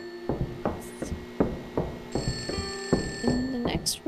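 A telephone rings inside an abandoned school in the horror game Hanako, with a steady run of repeated bell-like rings over game ambience and piano-like tones.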